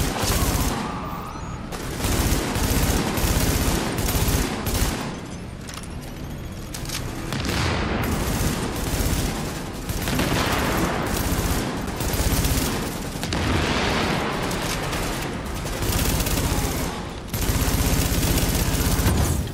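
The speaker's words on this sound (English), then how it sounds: "The M4 assault rifle. It's really fast fire rate and it's powerful, so it does a lot of damage quick." M4 assault rifle fire in The Division video game, loud rapid bursts of automatic gunfire repeating across the stretch with brief gaps between volleys.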